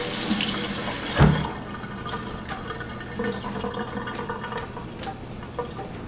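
Tap water runs steadily into a kitchen sink during rinsing while cooking meatloaf, a broad continuous hiss with a sharp splash or clatter near the start and a few small knocks scattered through.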